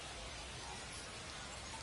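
Steady rain falls over a baseball ballpark during a San Antonio Missions vs Frisco RoughRiders game: a soft, even, continuous hiss of drops that stays faint and distant throughout, with no voices.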